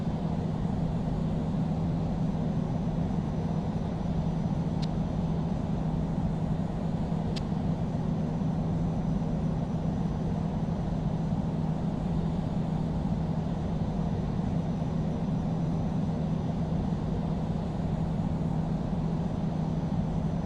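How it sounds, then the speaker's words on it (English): An airliner in the Infinite Flight game rolls for takeoff on runway 27 left, heard as a steady, loud, low engine roar that holds without change and has no talk over it. "Cleared for takeoff, runway 27 left"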